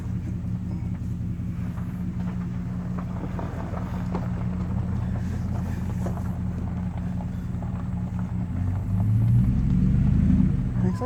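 An old Hemi-powered Dodge D100 pickup with sticking brakes and a weak transmission drives along, its engine giving a steady low rumble mixed with wind noise that swells louder near the end.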